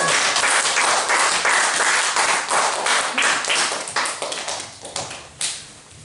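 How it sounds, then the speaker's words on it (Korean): A church audience at a youth winter retreat gives a pastor a dense, loud round of clapping that thins and fades toward the end, with scattered separate claps left standing out. "다 오실 때 큰 박수 내려주세요."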